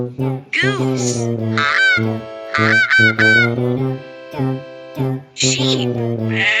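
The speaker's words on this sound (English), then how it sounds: "Goose!" A farm animal toy gives out loud electronic goose honks, a run of nasal, buzzy honks in uneven bursts, close and clear with no talking.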